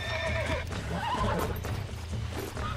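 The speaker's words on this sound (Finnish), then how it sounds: "Hieno tämmönen kermanvärinen hevonen." A cream-colored horse in the video game Red Dead Redemption 2 whinnies loudly in the foreground, its neigh rising and falling over a dense background of hoofbeats and noise.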